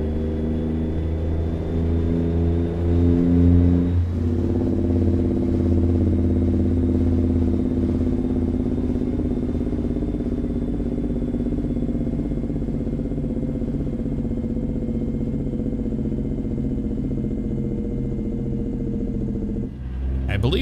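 Heavy truck engine brake in American Truck Simulator, a sustained low growling drone with stepped harmonic bands shifting as the engine speed changes, loud and continuous, with a brief drop near the end.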